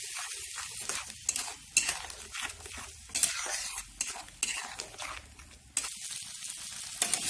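Tomatoes frying in a hot pan for pav bhaji while being stirred, giving repeated scraping stir strokes over a soft sizzle, close and fairly quiet, with no talk.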